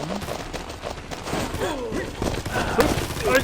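Dual guns firing in the video game Combat Master: a dense, busy stretch of rapid shots and impacts mixed with other game effects, loud and continuous with no clear pauses.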